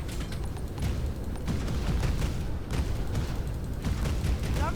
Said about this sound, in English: And another explosion.